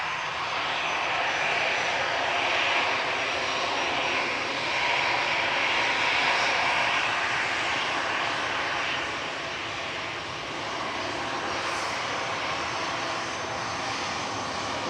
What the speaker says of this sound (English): Lined up next from Victor Bravo is Lufthansa City, heading back to Munich, the ABGK A319 with flight